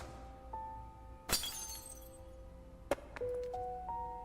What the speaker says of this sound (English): It hit an overhead light,